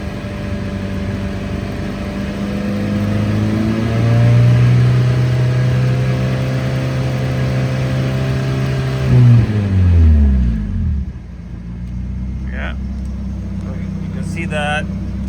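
A 1991 Nissan 240SX engine revs loudly while driving, its steady drone climbing in pitch, then the revs drop sharply and settle to a quieter hum, with brief faint chirps near the end.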